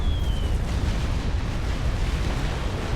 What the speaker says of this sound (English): Titan's base getting very severely weakened by those artillery shells